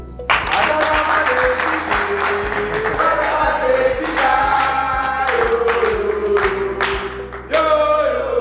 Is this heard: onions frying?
no